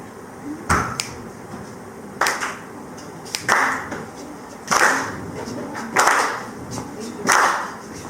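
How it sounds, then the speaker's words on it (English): Rhythmic hand claps, sharp and fairly loud, repeating in an uneven beat of roughly six claps, set up to accompany an a cappella song. "you're gonna need to clap like this"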